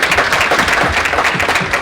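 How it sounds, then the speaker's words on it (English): An audience claps at the close of a national conference's final session, a dense, steady patter of many hands filling the hall from start to finish. "So a great round of applause for them."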